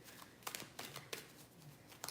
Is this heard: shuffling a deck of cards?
yes